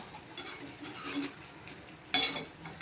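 Tomato and garlic curry with cluster beans being stirred in a pan, a few soft scraping strokes with a brief sharper clink of the spoon near the end, faint sizzling underneath, no talking.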